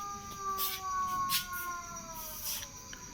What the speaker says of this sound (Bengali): এ আবার হায়না ডাকছে